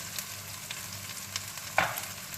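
Chicken masala frying with ginger and garlic in a pot, a soft steady sizzle with a few light stirring clinks and one sharper scrape near the end.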